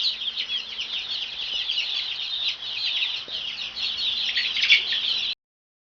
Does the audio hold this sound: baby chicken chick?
yes